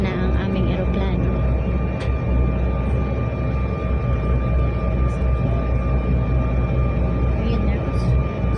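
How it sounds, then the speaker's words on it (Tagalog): A passenger airplane sits on the runway before takeoff, heard from among its passengers. A constant, heavy engine drone fills the whole stretch, and voices and small background noises sit beneath it. "Rarampa na ang aming aeroplano."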